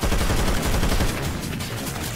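Sustained rapid gunfire from the video game Left 4 Dead 2, a dense continuous burst of automatic shots heard close and loud with no pauses and no talk.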